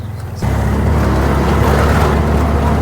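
An auto rickshaw engine kicks in abruptly after a short moment and runs with a loud, steady close drone on the ride through Digha towards Mohona.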